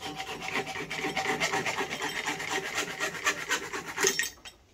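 A hacksaw with a fresh blade cuts through a golf driver shaft in a workshop, giving steady, rhythmic rasping strokes that are fairly quiet and close, ending with a final pass and stop.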